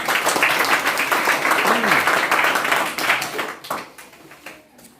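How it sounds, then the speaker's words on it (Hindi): A classroom of students claps for a classmate during a Hindi grammar lesson, a brisk, dense burst of applause that holds steady and then thins out and fades over the last second or two. "आयुषी के लिए भी ताली बजाइए"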